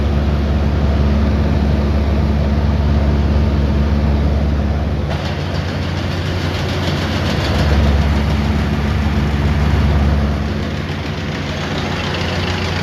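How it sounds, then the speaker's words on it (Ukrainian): A steady mechanical hum with a whooshing fan drone from a fan-driven cooler for soy cake runs continuously, close and fairly loud, with a slight shift in tone partway through. "Отак працює охолоджувач."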